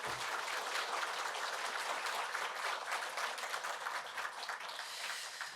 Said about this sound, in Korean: 잠깐 자리에서 일어나시면 우리 환영의 박수 함께 하겠습니다.